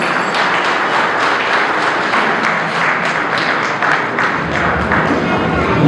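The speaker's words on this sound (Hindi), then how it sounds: "जोरदार तालियों से स्वागत करें।" An audience claps steadily and densely at a talent felicitation ceremony as Vanshika Chauhan of Jodhpur is welcomed onto the stage. The applause is loud and sustained, with no voices rising above it.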